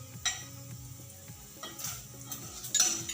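Chana dal and urad dal fry in a pan, producing a faint, close sizzle with light stirring scrapes and a few sharp clinks of utensil against metal.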